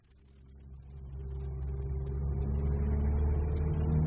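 A car engine rumbles into life and settles into a steady, growing idle, a low throaty drone that swells over four seconds and holds, in a radio drama set in snowy countryside.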